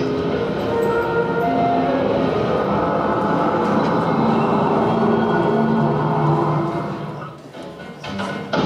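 A moving train rumbles steadily at close range with a dense, continuous roar and rattle that fades briefly near the end, with no talk over it.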